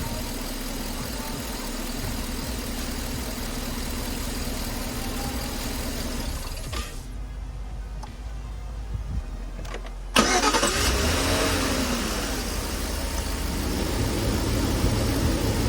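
Car engine running after an XS Power SB500 battery install, a steady close idle rumble that drops away for a few seconds, then returns louder and rougher.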